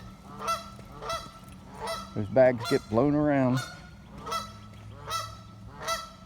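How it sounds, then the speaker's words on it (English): Several geese honk loudly in a burst of calls, nearby, with a person speaking briefly before and after amid breezy, windy morning outdoor noise. "Some geese that are out this morning. letting everybody know they're awake."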